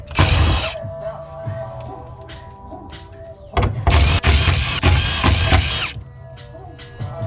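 Ratchet and power tools rattle in two loud close bursts while a car fuel pump is removed, separated by a quieter stretch of faint mechanical clicks.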